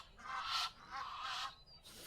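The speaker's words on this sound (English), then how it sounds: "for some reason the birds have decided to kick off now" Birds calling in several noisy honking bursts by a small fishing lake, faint and somewhat distant, with short pauses between the calls.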